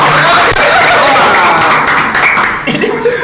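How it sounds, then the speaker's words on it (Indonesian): A school audience at a podcast-style literacy session in Indonesia claps and laughs together in a dense, steady burst that fills the whole stretch, fading slightly toward the end. "Oke, tepuk tangan dulu."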